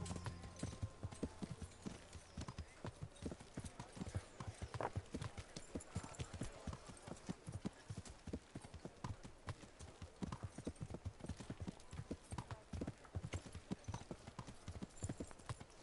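Horse hooves clip-clop in a steady, continuous trotting rhythm throughout, loud and close, from a ridden horse in the medieval role-playing game Kingdom Come Deliverance, with a faint whinny possible.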